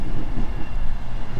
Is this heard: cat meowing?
no